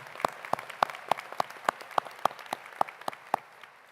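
Hands clap in a steady, even rhythm, about three or four claps a second, fairly faint and slightly distant, at a commencement ceremony.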